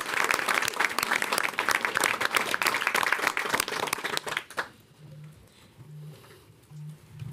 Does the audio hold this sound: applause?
yes